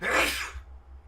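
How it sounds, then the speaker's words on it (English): A single loud, close human sneeze bursts out at once and then quickly fades into quiet. "I'm gonna sneeze. I feel it coming."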